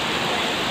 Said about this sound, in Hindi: यार क्या मौसम, बारिश हुई है